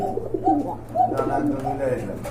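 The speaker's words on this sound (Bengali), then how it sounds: "এইখানে রয়েছে এক জোড়া রেড চিকাত কবুতর" A pair of red chikat pigeons coo in soft, repeated rolling calls close by at a pigeon market, under a voice.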